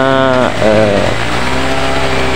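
A rough-running Honda Vario 110 FI scooter engine with a fault that makes it stall, idling loud and close with a steady buzzing drone and a brief dip in revs partway through.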